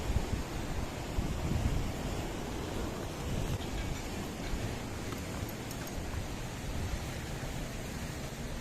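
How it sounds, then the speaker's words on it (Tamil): Sea surf rolls in at a beach in the Andaman and Nicobar Islands, a broad, steady wash of noise with a slight swell near the start, buffeted by wind on the microphone. "இப்போ அலை பாரு, சரியான அலை ஒன்று வரும் பாரு"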